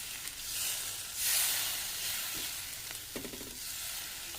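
Curry being stirred in a pan after a bowl of water is poured in, with a soft steady sizzle, a brief louder hiss and scraping spoon sounds.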